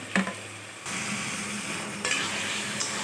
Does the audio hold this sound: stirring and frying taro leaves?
yes